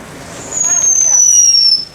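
A whistling firework rises and falls in pitch over a few crackling pops, fairly close and loud, against faint background noise, during the Fallas festival's final burning night in Valencia.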